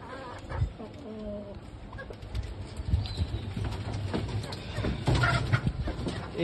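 Native desi chickens cluck and call on a poultry farm, several birds near and farther off in intermittent bursts, mixed with faint rustling and background noise.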